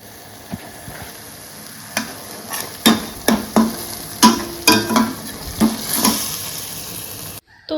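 Kadhai paneer being stirred in a pan, cooked for the first time at home: a steady frying sizzle with a run of sharp, regular spoon scrapes and knocks against the pan, close and fairly loud, ending abruptly.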